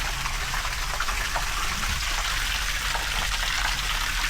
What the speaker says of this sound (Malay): Kita buang dia punya air dulu.